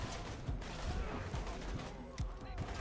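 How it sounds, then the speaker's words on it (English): Enemy gunfire in Borderlands 2, a rapid run of distinct shots and thuds at a moderate level, with a voice talking over part of it. "Stop shooting at me."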